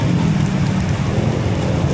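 Heavy rain pours down during a typhoon, a loud, dense and unbroken hiss of drops drumming on surfaces close by, with no voices.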